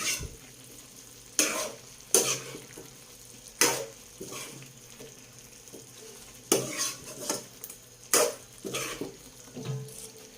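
A spoon stirring chicken adobo with saba bananas in a pot, with repeated scraping knocks against the metal at irregular intervals over a low simmering background, close and fairly loud.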